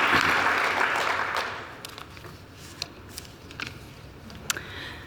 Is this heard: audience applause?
yes